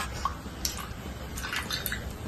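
Pulp is squeezed and strained for pani puri water, giving soft, close drips and small wet squishes at irregular intervals over a light watery background.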